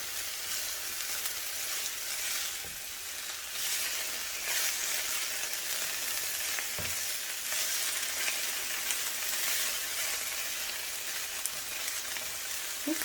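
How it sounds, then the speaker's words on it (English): Soy bean sprouts sizzling in a pot among sautéed ingredients, a continuous even hiss and crackle held for over ten seconds, close but soft, with an occasional light clank and no voices. "We're going to go ahead and add our bean sprouts."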